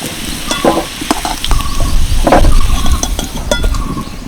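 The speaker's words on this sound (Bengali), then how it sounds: "আলুগুলো দেখো বেশ ভালো করে ভেজে নিয়েছি" Potatoes sizzle and crackle in mustard oil in a kadai while a spatula scrapes and stirs against the metal in repeated clanking strokes, close and loud with no talking.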